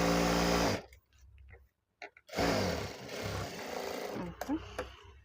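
A sewing machine stitches three stacked fabric pieces together for a travel mobile pouch, running close and steady in a few bursts with brief stops between them.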